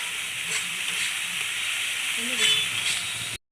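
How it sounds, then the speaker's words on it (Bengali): Fish frying in oil in a pan with turmeric, chili, coriander and cumin powders, stirred for a steady close hiss and sizzle throughout with a few soft scraping strokes, then an abrupt stop. "হলুদ গুঁড়ো লঙ্কা গুঁড়ো আর ধনে গুঁড়ো জিরে গুঁড়ো তো এবার দিয়ে এটাকে আমি ভালো করে নাড়ব"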